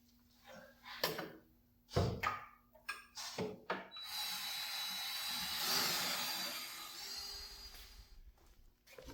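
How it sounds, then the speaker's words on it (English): Sharp knocks and clatter give way to a sustained, whirring power drill with a 9/16 bit grinding out a bump stop seat on a Toyota FJ Cruiser for several seconds, then the noise fades. "I have to drill out the lower seat to a 9/16 drill bit."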